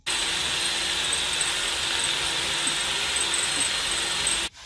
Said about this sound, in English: We're gonna drill a hole there, install another bolt, which will keep the bracket from rotating